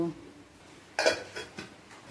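A metal kadai set down on a gas stove in a home kitchen, a sharp clanking knock followed by a couple of smaller metallic taps against quiet background.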